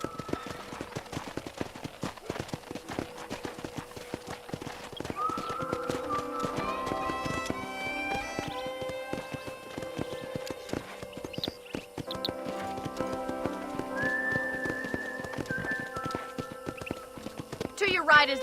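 Rhythmic horse hoofbeats clip-clop steadily under game music in Red Dead Redemption, with brief voices mixed in; the galloping stays moderately loud throughout.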